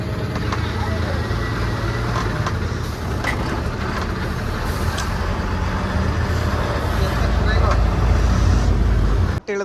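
A ten-wheeler truck passes on a roadway amid steady, loud traffic rumble that holds through the whole stretch, with a voice talking over the road noise.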